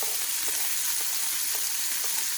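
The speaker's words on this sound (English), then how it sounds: "add this ajwain leaf in the pan and saute" Ajwain leaves sauté in hot oil in a pan with a steady, hissing sizzle and faint periodic stirring clicks about every half second. The sound is close and continuous, with no voices.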